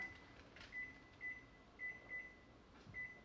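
A kitchen timer is set while pickles simmer on the stove, giving a string of short electronic beeps, five or so spaced irregularly over a few seconds, quiet and close against a low room hum.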